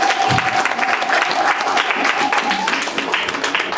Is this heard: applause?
yes